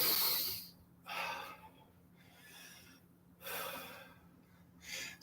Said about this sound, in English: A few more nasal breaths.